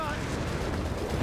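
Continuous rumbling battle fire from the World War II strategy game Company of Heroes 3, a dense blend of gunshots and heavier blasts heard under steady voices talking.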